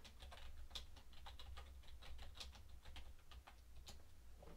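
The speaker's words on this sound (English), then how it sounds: "Are you typing more stuff about me again?" Quick, quiet typing on a computer keyboard, with irregular clicks of the keys in close succession over a low background hum.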